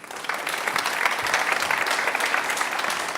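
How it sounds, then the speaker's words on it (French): A studio audience claps for guest Franz Govart on a Christmas special TV show, a full, sustained round of applause that stays even and unbroken from start to finish. "Il est là, Franz Govart, que je vous demande d'applaudir."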